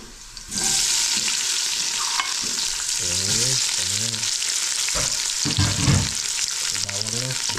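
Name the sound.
onions sautéing in a pan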